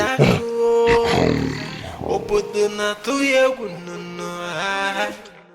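A lion roars in a Nigerian drama: a long, loud, harmonic roar swells and fades, followed by rumbling growls and shorter grunting calls, with no talking.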